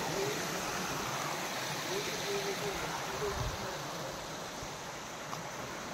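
Water rushing over Bhushi Dam, a steady broad outdoor roar of flowing water that runs on unbroken throughout, with no distinct speech heard over it.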